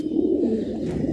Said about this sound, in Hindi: 200 कबूतरों का बेहतरीन सेट है।